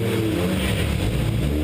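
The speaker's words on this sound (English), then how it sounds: "So you're going to hear 2 different engine sounds in this video." Twin-turbo drift car engine revving loudly and continuously, a dense roaring drone heard through recorded playback without talk.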